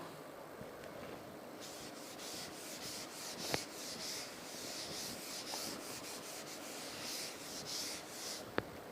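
Writing is rubbed off a board with a duster in repeated quick back-and-forth strokes, a faint rhythmic scrubbing swish close by, with an occasional tap or click and no talk.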